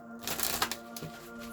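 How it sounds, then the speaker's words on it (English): A deck of tarot cards is shuffled, with a quick riffling patter of a second or so close by, then a light settling tap as the cards come together. "now let's get into intercession while I shuffle the deck for our jump card"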